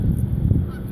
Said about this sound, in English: there's a whole bunch of ducks ahead